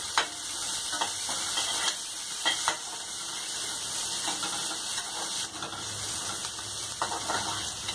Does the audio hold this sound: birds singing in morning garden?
no